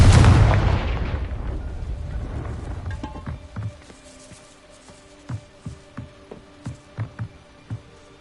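Confringo blasting spell explosion in the Hogwarts Legacy video game: a loud booming blast at the start that rumbles and fades over a few seconds, followed by a series of light, regular footstep-like taps.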